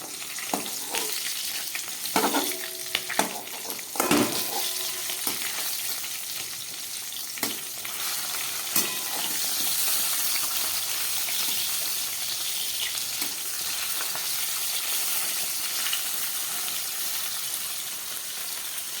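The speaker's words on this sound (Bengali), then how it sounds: "এক পিঠ মাছ ভাজা হয়ে গেছে উল্টে দিলাম" Steady, loud sizzling of koi fish frying in oil, with a few clattering knocks early on, then continuous crackle without talk.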